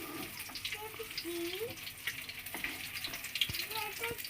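Tap water runs under a low steady wash while cauliflower and flat beans are rinsed for a tilapia curry, with faint clinks and splashes of handling scattered through.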